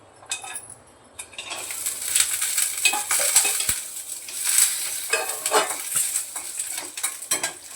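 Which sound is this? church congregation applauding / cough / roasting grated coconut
roasting grated coconut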